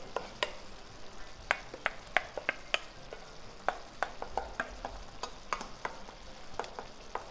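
Ricotta romana worked with a little cooking oil into a paste, a spoon or spatula tapping and scraping in repeated sharp clicks with soft stirring between, close and fairly quiet.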